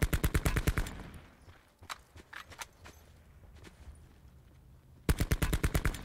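A KN rifle in Call of Duty Blackout fires loud rapid bursts at the start and end, with scattered single shots and footsteps in between, with no talk.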